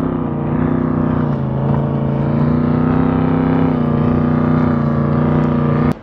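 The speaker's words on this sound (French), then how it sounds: "Il y a les genres de bateaux qui vont vite." A steady, droning motor roar from fast speedboats passing at Horseshoe Bend runs continuously and loudly, holding an even pitch with no talking.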